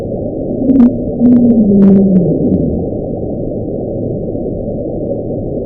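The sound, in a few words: loud underwater rumbling recorded by hydrophone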